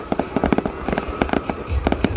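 New Year fireworks bursting in Yên Bái crackle in a dense, fast string of sharp pops over a steady background rumble, close and loud throughout.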